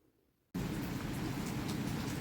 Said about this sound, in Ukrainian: На завершення відео ось такий пустився дощик